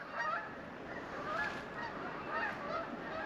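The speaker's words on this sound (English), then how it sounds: "Silly birds are going north." A flock of birds flying north calls overhead in a faint, distant stream of honking cries over a steady wash of outdoor noise, with no talking.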